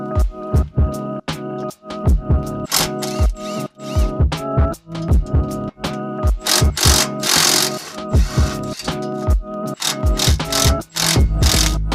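A ratchet wrench loosening 14mm fasteners on the strut bracket of an Infiniti Q50 during a lowering-spring install clicks in fast, uneven bursts, loud and close, with brief pauses between runs.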